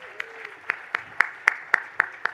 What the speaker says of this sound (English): Jennifer Jones-Austin, give her a round of applause.